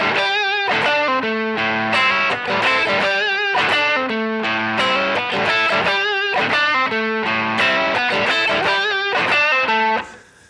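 Distorted electric guitar plays a bluesy 12-bar lick in A of bent notes and choppy chords, steady and loud throughout, no voices.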